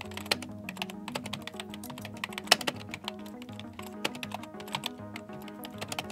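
Fingers tap on a computer keyboard in short, irregular runs of quiet keystrokes, close and soft, with no talk.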